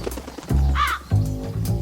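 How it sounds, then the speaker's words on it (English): A crow caws loudly and close by, two harsh calls in quick succession, standing alone without any talking. "a crow lazily flapped through the air"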